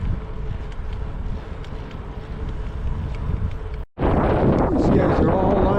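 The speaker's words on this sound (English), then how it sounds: "Watch me buck this afternoon southerly wind." Loud, steady wind rush buffets the microphone while cycling through New Zealand farmland into a southerly afternoon headwind, briefly cutting out before returning even stronger and harsher.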